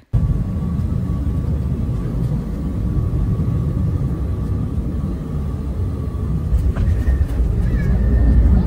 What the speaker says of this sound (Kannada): ಇನ್ನೇನು ಲ್ಯಾಂಡಿಂಗ್ ಆಗ್ತಾ ಇದೆ ಫ್ಲೈಟ್